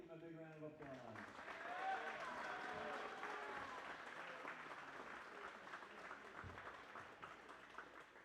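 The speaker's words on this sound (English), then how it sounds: "Let's give him a big round of applause." Crowd applause fills a basketball gym as a player named Matt Hale is honored at a Southern Virginia University versus William Peace men's game, steady broadband clapping sustained throughout, with a voice speaking over the start.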